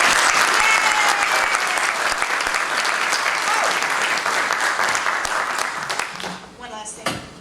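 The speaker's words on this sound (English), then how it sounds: "give Claudia Wells a huge round of applause." A convention panel audience at Pensacon 2016 gives loud, sustained applause that fills the hall and then tapers off near the end.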